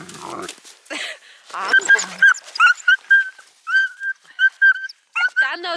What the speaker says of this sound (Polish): Odszczekała się.